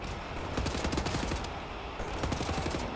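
Dense gunfire in Wolfenstein: The New Order, with overlapping shots and bursts firing continuously over a loud, noisy background of combat.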